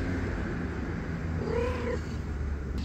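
A calico cat out in a neighbourhood gives one clear, drawn-out meow over steady low background noise.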